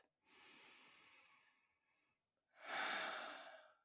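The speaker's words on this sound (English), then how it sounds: "take a beautiful deep breath" A slow, deep breath drawn in softly through the nose, a brief pause, then a fuller, louder exhale, close to the listener with no talking.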